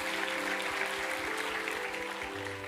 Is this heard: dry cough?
no